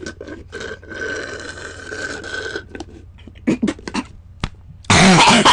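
A person coughs several times in short, harsh bursts with a throat-clearing sound, close to the microphone, followed by a loud burst of noise at the end.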